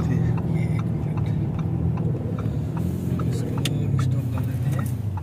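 A Lamborghini engine in Corsa mode runs with a continuous, loud, close drone, heard from inside the car with faint interior clicks and no clear pauses.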